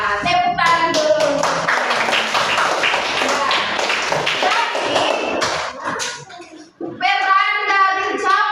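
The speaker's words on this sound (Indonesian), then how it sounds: "Tepuk tangan dulu" Children clapping hands together in an Indonesian classroom, a loud, steady patter of many small hands close by for about six seconds, a brief lull, then voices chanting or singing together at the end.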